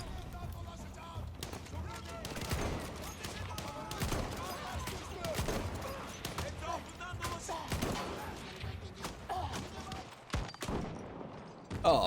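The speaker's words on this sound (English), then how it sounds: "Oh, a Lewis gun." A Lewis machine gun and other gunfire sound in a Battlefield 1 match: repeated bursts and scattered shots of mid-distance fire, with a player talking over much of the action.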